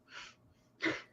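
A short, breathy sneeze: a quick inhale, then one sharp burst of air, fairly faint and close.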